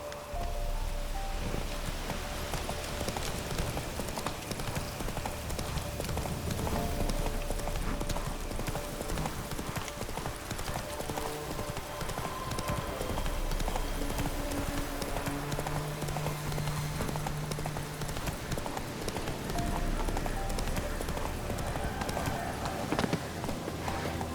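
Horse hooves galloping in The Witcher 3, a dense, continuous clip-clop rhythm that runs loud and close throughout over a constant rushing backdrop, with faint spoken words in places.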